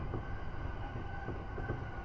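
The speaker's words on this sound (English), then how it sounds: "This is the Yamanote Line train bound for Shinjuku" Yamanote Line train in Tokyo running on a rainy day: a steady low rumble with a faint tonal hum throughout, continuous and close, with no voices.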